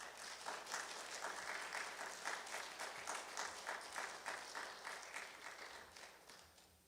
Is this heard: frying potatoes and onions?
no